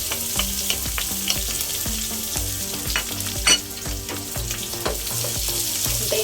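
Garlic and onion fry in a little oil, a loud, steady sizzle with rhythmic stirring scrapes throughout and no talking.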